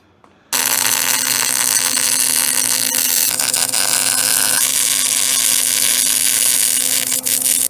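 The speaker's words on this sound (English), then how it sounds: "Then we'll mark a hole and drill it." A loud, high-pitched power drill whines steadily after a sudden start, drilling a hole in metal on a 1965 Chevrolet C10 truck, running continuously for several seconds with a slight dip near the end.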